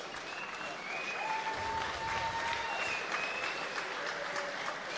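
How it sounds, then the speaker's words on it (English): A crowd at a live amateur MMA-style fight event applauds both fighters, steady dense clapping across the arena with a few faint whistles and cheers mixed in, holding at an even level throughout. "A round of applause please for both fighters."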